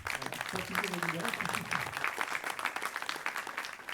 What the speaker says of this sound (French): je pense qu'on peut aussi les applaudir